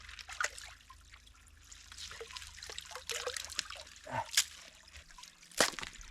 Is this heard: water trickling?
yes